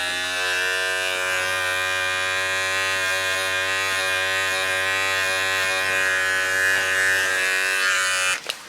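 Electric hair clippers hum steadily and loudly throughout a buzz cut with an ice pick taper, a close, continuous motorized buzz that cuts off abruptly near the end.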